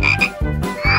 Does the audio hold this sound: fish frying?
no